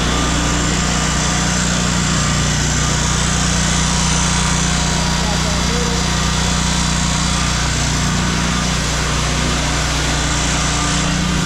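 A floor grinder working a concrete garage floor, a loud, constant engine-driven drone with a steady low hum that never lets up.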